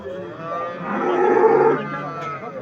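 A cow moos in a long, drawn-out low call that swells in the middle, with faint background noise throughout, at a livestock market in Çubuk, Ankara.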